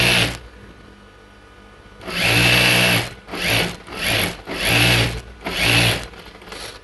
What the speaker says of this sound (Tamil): இது அதே மாதிரி இந்த ஓரத்தில் ஒரு தையல் போடலாம்